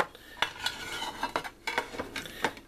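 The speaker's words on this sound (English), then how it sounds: "Here's the USGI pan." A USGI mess kit pan is set down among other metal cookware, giving several sharp clanks and clatters of metal on metal, close and fairly loud, with no talking.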